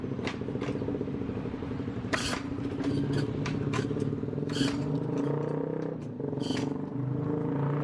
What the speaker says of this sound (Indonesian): Tetap nggak mau juga kita engkol.